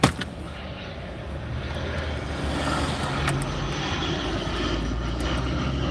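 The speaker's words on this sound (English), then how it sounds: "just behind us is a plane coming in" A plane flies in to land, its engine a steady broad roar that slowly swells and stays loud throughout, with no talk over it.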